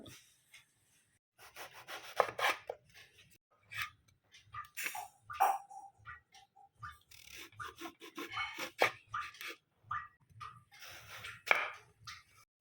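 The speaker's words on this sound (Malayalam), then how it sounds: "ഇനി നമുക്കിതൊന്ന് കട്ട് ചെയ്തെടുക്കാം നൈസായിട്ട് ഇതുപോലെ ഒന്ന് കട്ട് ചെയ്തെടുക്കാം" A knife slices brinjal thinly on a cutting board, making a series of soft, quiet scraping and tapping strokes in an irregular rhythm with pauses between them.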